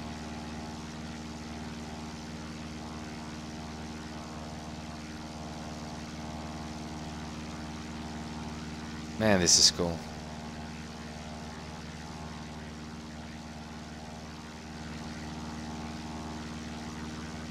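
Steady drone of a Piper Cub propeller aircraft engine in the X-Plane flight simulator, constant and moderately loud, with a brief burst of a voice partway through.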